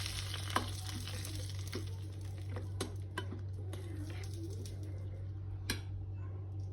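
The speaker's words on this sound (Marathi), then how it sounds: "हा तडका ह्यात ओतून घ्यायचा आहे त्याला चांगलं मिक्स करायचं आहे" A hot tadka is poured over beetroot salad and mixed in, giving a faint sizzle with light stirring clicks over a steady low hum, and a bird calls faintly in the background.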